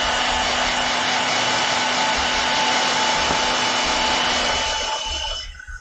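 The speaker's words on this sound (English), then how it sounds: "I'm going to use my hairdryer real quick." A hair dryer blows with a loud, steady whooshing whine close by, running continuously before cutting off at the end.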